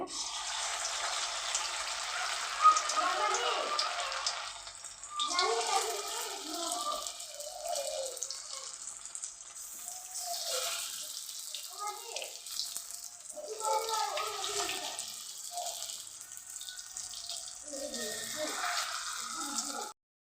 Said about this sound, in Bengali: তেলটা গরম হয়েছে গা তখন আমি বড়াটা জ্বলতেছি